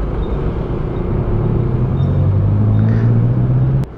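A truck rumbles loudly past while riding a Yamaha NMAX Turbo scooter on the road, its heavy engine drone rising and building close by through the pass before cutting off with a sharp thump.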